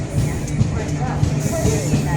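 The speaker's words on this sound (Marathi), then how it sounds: "तुम्ही बघू शकता प्रवाशांची गर्दी ट्रेनची वाट बघत आहे" Busy platform ambience at Chiplun railway station: a low rumbling hum with scattered indistinct voices and faint clatter from a crowd waiting for a train.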